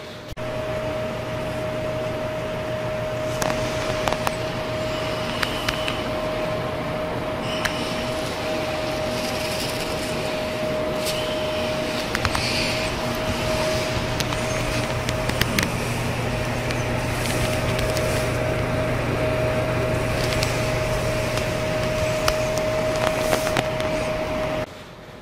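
A heat-powered wood stove fan turns on a propane stove, its blades giving a steady whirring hum with a constant pitched tone and scattered faint clicks over about twenty-five seconds.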